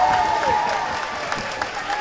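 A high school basketball crowd at Westwood applauds and cheers after a made three-pointer in a boys' game against Stony Point. The applause is steady and fairly close, with a commentator's voice faintly under it.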